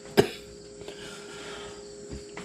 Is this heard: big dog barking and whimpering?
no